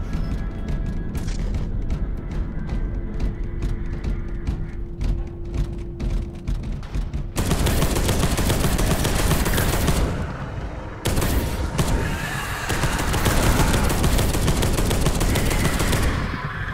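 Sustained automatic gunfire from the video game Space Hulk: Deathwing rattles loud and dense, the bursts running almost continuously with brief shifts in intensity and no speech over them.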